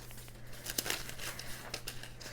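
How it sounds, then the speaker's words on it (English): Sheets of tracing paper crinkle and rustle as they are grabbed and handled for a junk journal, giving a steady run of close, crisp crumpling bursts with no talk over them. "This is tracing paper. I'm going to throw in there."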